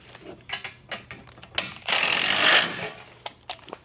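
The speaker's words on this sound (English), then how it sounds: "once you have all four pieces tight, you can tighten the 4 bolts up" A ratchet wrench clicks while tightening bolts on an aluminum Kuat IBEX bed rack for a 2024 Toyota Tacoma, with rapid ratcheting bursts and a louder grinding swell in the middle, close by and without talk.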